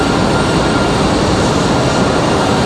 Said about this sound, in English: our E175 for Republic Airways on the move.